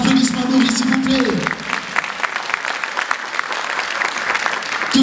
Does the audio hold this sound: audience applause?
yes